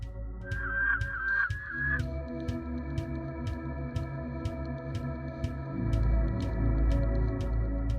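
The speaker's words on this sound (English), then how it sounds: "there is an ever-present bird call that can be heard" A crow-like cawing bird call from the Fear & Hunger 2: Termina soundtrack, a quick run of harsh caws early on, set over a low droning musical bed with steady ticking percussion that swells louder toward the end.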